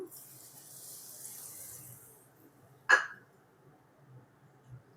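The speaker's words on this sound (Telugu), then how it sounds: "కొంచెం వాటర్ వేసుకుందాం." A faint, steady trickle of water pouring onto jaggery in a pan for a couple of seconds, followed by a single sharp knock, then near silence.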